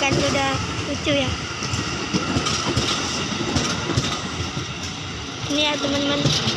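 A KRL JR 205 series commuter train bound for Angke rumbles past at Bukit Duri, with steady wheel clatter and rail noise close by, brief squeals near the start and end, and people talking under the din.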